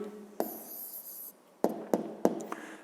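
A pen scratches an answer onto paper during a fifth-grade math exercise, with a long continuous stroke followed by several short, quick marks in an uneven rhythm, close and fairly quiet.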